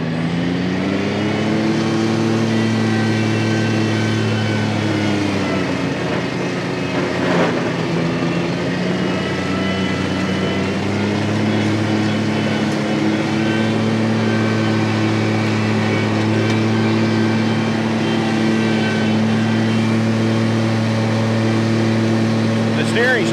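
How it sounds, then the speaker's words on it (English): A Ferris riding mower engine runs throttled up with the deck engaged, a loud continuous drone with steady tonal hum that dips briefly and rises again, close by throughout. "going to throttle it up about halfway. I'm going to drop the mower deck down to my cutting height."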